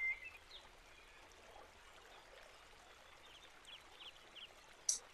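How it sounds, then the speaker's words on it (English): Falling water trickles in a forest stream as a soft, steady wash. A faint bird chirp comes at the start and a brief sharp tick near the end, with no talking. "listening to the sound of the falling water"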